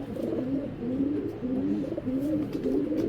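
Indian Kaldom pigeons coo in a steady, continuous run of low, rolling calls, close and fairly loud, with no pauses between the overlapping phrases.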